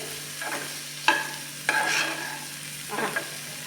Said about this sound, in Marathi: या पुलावला मिक्स करून घेऊयात